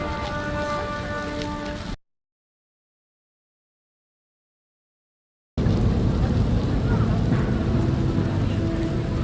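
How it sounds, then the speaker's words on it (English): Steady hissing rain from The Witcher video game, loud and constant, cutting out to full silence for a few seconds before returning just as dense. "It rains and it pours."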